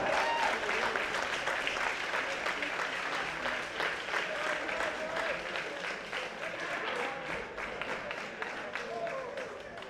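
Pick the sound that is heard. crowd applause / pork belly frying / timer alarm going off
crowd applause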